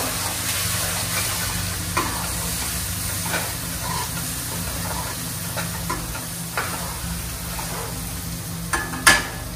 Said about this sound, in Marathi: आता हे सर्व मसाले छान असे परतून घ्यायचे